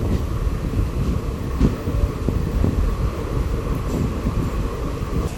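A DEMU passenger train pulls out of Uppuguda station after a short halt, its steady rumble and rolling wheel noise continuing loudly and evenly throughout, with no voices.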